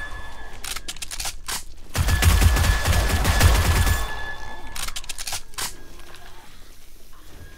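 Gunfire at zombies in 7 Days to Die, with sharp bursts of shots, then a dense roaring volley of rapid fire in the middle, followed by more scattered cracks that trail off.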